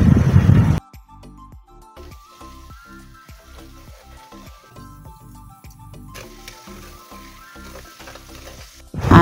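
Blended chili paste for sambal sizzles and crackles in hot oil, with a steady frying hiss and occasional stirring scrapes in the pan.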